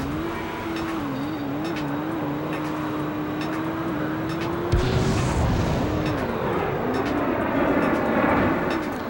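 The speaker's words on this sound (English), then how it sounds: "Loud ass airplane." A loud airplane flies overhead in the racing video game Midnight Club 2, a steady droning engine tone that swells and shifts pitch over continuous car engine and road noise.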